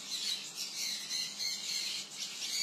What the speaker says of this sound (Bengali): ওইদিকে দেখুন আমার যে ওপেনে যে পাখিগুলো থাকে, বদ্রি ককটেল, ওরা কিন্তু খেতে চলে এসছে।